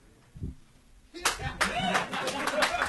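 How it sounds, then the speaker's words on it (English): A single audience member at a live comedy show claps, starting after a brief pause with sharp, uneven claps that continue through the rest, mixed with room noise. "just clapping because you said banana splits"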